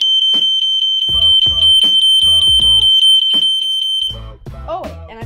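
A fire alarm control panel's push-and-hold test sets off a loud, steady high-pitched tone with pulsing horn blasts nearby, sounding for about four seconds before cutting off as a person speaks.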